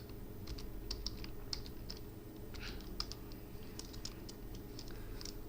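Rapid, irregular keystrokes on a computer keyboard while JavaScript code is entered, light clicky taps in short bursts close to the mic over a steady low hum, no talking.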